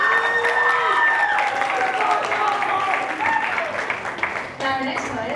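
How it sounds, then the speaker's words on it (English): Crowd applause and some cheering at a poetry night after a poem is read, a loud broad wash of clapping with voices talking and calling out over it, easing slightly near the end. "Another round of applause for Marcos' poem."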